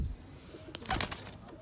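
Fullsira pigeon giving a soft, brief coo, faint and close with light handling noise around it.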